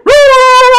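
A child gives one sustained, nasal, voiced imitation of a dog's bark, more like a drawn-out woof or whine, loud and close with no other sound around it.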